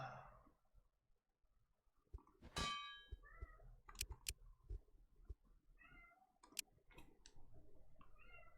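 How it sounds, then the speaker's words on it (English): A moody house cat meows several times in the background, short nasal calls spaced through the scene alongside faint clinks and ticking, with no talking. "I wonder if you can hear my cat in the background."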